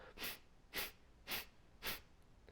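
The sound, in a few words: breath of fire yoga breathing, sharp nasal exhales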